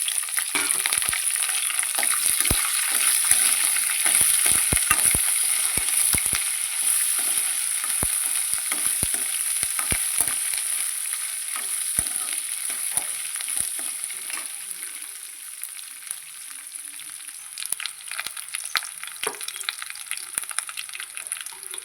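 Dried red chillies, curry leaves and green chillies sizzle in hot oil, a loud, continuous frying hiss with scattered sharp pops and crackles throughout, no voices.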